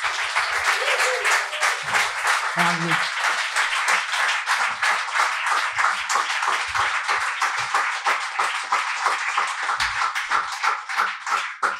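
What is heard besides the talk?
audience applause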